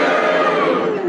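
A studio audience on a 1972 British radio panel game cheers and boos together in one loud, sustained crowd roar lasting about a second, with no single voice standing out.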